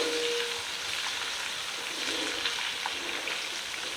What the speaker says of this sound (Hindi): लहसुन अदरक के कच्चेपन को हम पहले दूर करेंगे, थोड़ा सा भूनेंगे इसको।